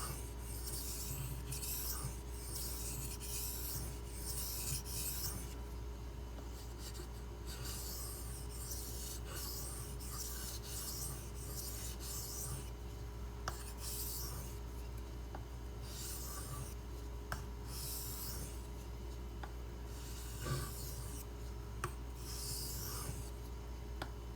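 A Benchmade 9400 knife blade rubbed in alternating passes across a Shapton Glass whetstone, quiet rhythmic scraping strokes repeating about every second, close and soft, with a faint steady hum beneath and no speech.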